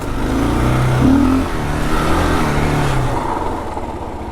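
A 2022 Kawasaki KLR650 ABS motorcycle picking up speed on the road, its single-cylinder engine droning loud and close as revs climb, shift, and settle into a steady pull.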